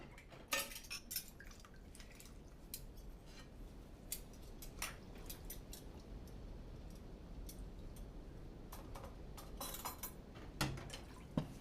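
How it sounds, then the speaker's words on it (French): Dishes being washed with cutlery being dried: scattered clinks and clatters of utensils and plates over a steady wash of running, dripping water, with irregular sharp taps throughout. "Je me souviens de ces longues séances de vaisselle où je l'aidais à sécher les couverts."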